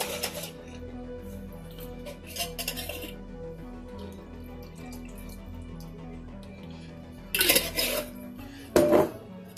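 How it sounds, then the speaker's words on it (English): A jar with water and bits of food is shaken by hand, making a couple of short sloshing, clinking bursts near the end over a quiet kitchen background with occasional light clatter. "Just give it a good shake."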